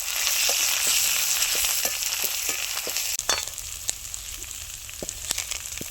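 Dal tadka tempering with crushed chilli flakes sizzling in hot oil, a loud steady frying hiss up close, punctuated by sharp spoon clicks and stirring knocks against the pan.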